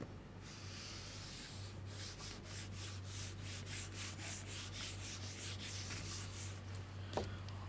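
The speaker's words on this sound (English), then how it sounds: "So let me rub this part" Writing is rubbed off a classroom board in a run of quick, regular back-and-forth strokes over a steady low hum, ending with a single sharp knock; no one speaks.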